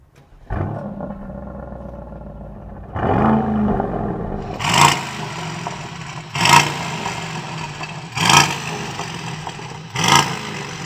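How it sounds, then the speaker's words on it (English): An SUV engine, a Porsche Cayenne Turbo GT or Aston Martin DBX 707, idles, then revs sharply four times at a standstill in a steady rhythm, each burst rising to a loud roar before dropping back, close by. "let's have a listen to what noise you can make with these cars when you rev them at a standstill"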